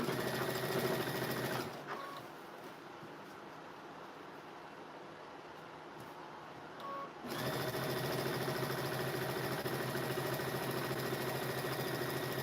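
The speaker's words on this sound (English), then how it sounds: "So now I'm going to come in here and finish sewing that." A sewing machine pieces an art quilt, running steadily up close, then dropping to a quieter pause for several seconds before resuming its even whirring.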